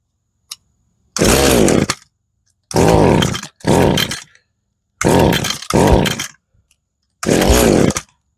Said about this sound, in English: There's nothing I hate worse than a 2-stroke, especially one that's about 30 years old